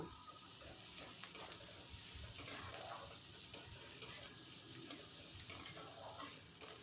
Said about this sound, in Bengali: পেঁয়াজটা আমি হালকা ভেজে নিয়েছি